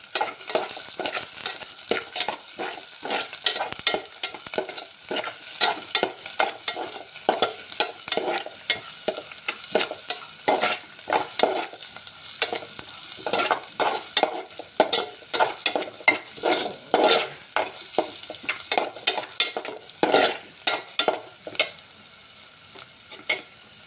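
Potato kurma base with onions frying in a pan while being stirred, a close, steady sizzle broken by rapid repeated scraping and clinking of a spoon against the pan throughout.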